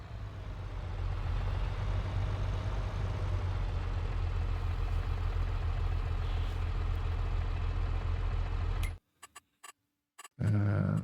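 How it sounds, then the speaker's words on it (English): Tractor engine in a realistic farming simulator game, a steady loud low drone running continuously for about nine seconds before cutting out abruptly, then briefly resuming at the end. "Love the sound of this tractor as well."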